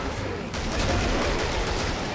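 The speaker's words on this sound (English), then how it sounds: "Keep moving and shooting." Continuous dense gunfire from a Tommy gun in a Killing Floor co-op match inside a closed corridor, loud and sustained throughout with no pause.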